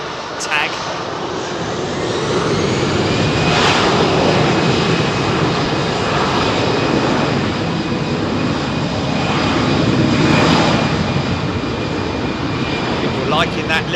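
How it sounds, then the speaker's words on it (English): A Virgin Atlantic freighter aircraft in from Brussels rumbles past at Heathrow with a loud, steady jet-engine roar that swells gently and holds throughout, while a voice talks over it. "That will be a Virgin Atlantic freighter operation in from Brussels"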